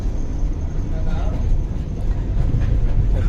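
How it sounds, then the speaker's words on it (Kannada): Vande Bharat Express (Train 18) running between Dharwad and KSR Bengaluru, heard from inside a coach as a steady low rumble with a muffled rolling rhythm, and faint talk beneath it. "ಯಾಕೋ ಸ್ವಲ್ಪ ಇಲ್ಲಿ ಅಡ್ಡಾಡಕತ್ತೆ ಟ್ರೈನ್."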